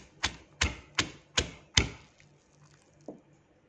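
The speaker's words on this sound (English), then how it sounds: "Now I'm just going to pound it into the mortar." Sliced onion is pounded in a mortar: five evenly spaced, sharp thuds close by, then a pause and one softer knock.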